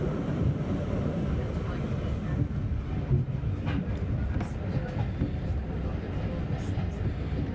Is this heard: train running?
yes